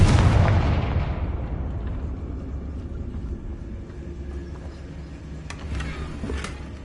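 A Confringo spell blast in Hogwarts Legacy opens with a loud, deep explosive boom, then fades into a long rumbling tail with a few crackling flickers near the end.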